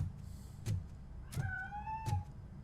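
A cat meows in the video game Robocop Rogue City, one clear drawn-out meow between a few soft thumps, fairly faint and with no talk.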